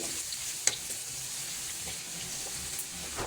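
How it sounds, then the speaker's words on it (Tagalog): Garlic fries in hot oil in a pan for pork adobo, giving a steady close sizzle and hiss throughout with one small clink early on. "lalagyan na natin ng bawang"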